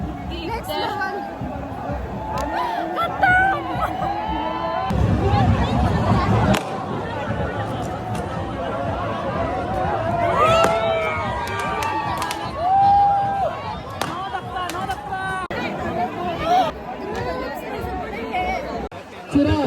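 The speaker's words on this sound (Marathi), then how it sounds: "जाम गर्दी आहे" A dense crowd at a palkhi procession chatters loudly and without a break. Many overlapping voices, occasional shouts and close-up talk blend into a continuous babble.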